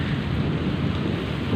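Thunderstorm during a power outage, heavy rain hissing steadily over a deep, continuous rumble of thunder, loud and close with no voices.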